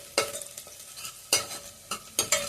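Sliced onion frying in hot oil inside a pressure cooker, a close steady sizzle punctuated by several sharp bursts of stirring and scraping.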